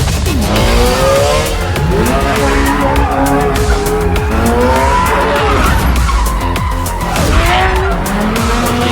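A car spins through a 360 drift with loud, continuous tire squeal and skidding over a revving engine, close and sustained throughout.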